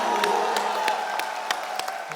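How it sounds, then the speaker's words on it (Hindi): Sustained applause from a TV comedy show studio audience, steady clapping throughout with scattered sharper claps standing out, fairly loud and continuous. "जोरदार तालियां हो जाए।"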